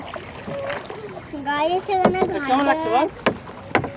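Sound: rowing a boat on a river

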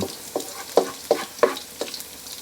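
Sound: garlic frying in a pan

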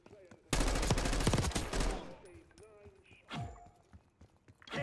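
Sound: gunfire in video game Black Ops 6

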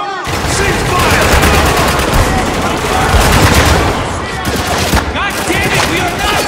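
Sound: gunfire in Spec Ops: The Line video game

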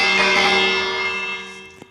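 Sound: bell ringing in Minecraft village, video game

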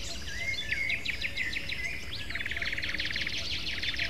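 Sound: ambient bird call cues in a video game

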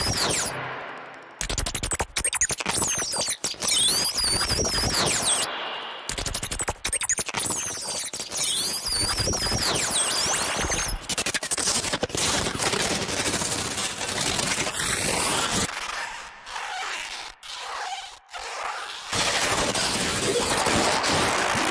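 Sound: cinematic trailer balloon whoosh bang sound effect

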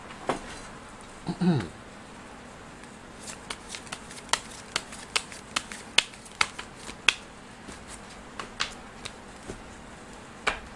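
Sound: shuffling tarot cards for a fortune reading

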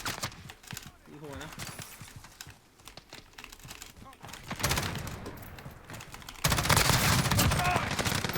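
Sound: gunfire in video game Call of Duty: Modern Warfare

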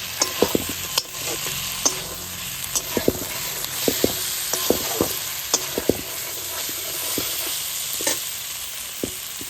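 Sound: sautéing whole green chilies in spice paste

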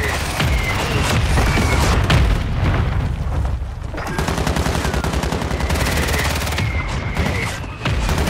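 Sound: artillery fire mission strike in Call of Duty Warzone video game

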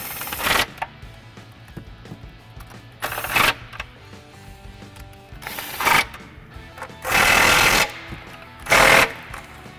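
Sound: tightening Nissan Frontier spark plug bolts with tool

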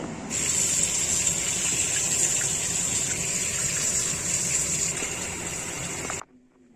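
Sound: water running while washing fish

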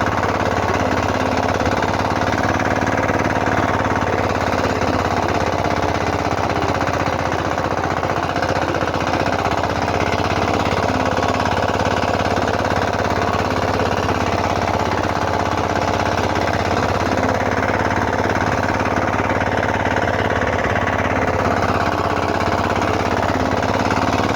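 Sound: walk-behind tractor tilling soil

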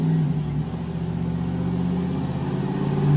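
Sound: truck engine revving on dyno, nitrous hit

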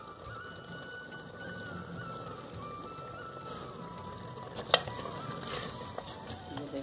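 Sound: ghee frying in a pan for minced beef

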